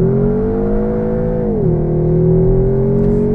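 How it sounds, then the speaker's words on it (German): A 2020 Seat Leon Cupra with 290 PS pulling away under launch control, its engine droning loud and close with a steady rising tone that dips briefly at a gear change, then climbs again. "Drücken das Gas, die Bremse gleichzeitig durch, Launch Control ist das. Gehen von der Bremse runter."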